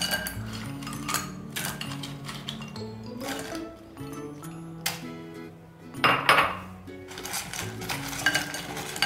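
Small crab pieces are stirred into a masala paste in a metal pan, with repeated close scraping and clinks of a spoon against the pan over background music.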